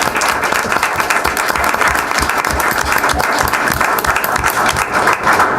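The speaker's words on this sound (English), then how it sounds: "Yes, he deserves a round of applause." Loud, close audience applause at a board of education meeting for a student headed to Columbia University, a dense steady clapping that carries evenly through the whole stretch.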